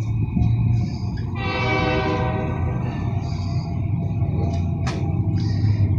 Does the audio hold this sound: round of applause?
no